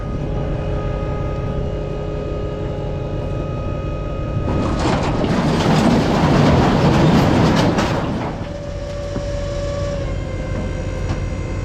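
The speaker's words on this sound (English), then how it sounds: "This little dump trailer is pretty dang impressive, I can tell you that." A small dump trailer raises its bed under load: a steady motor hum with whining tones, swelling midway into a rough, rumbling surge for a few seconds, then settling back to the hum.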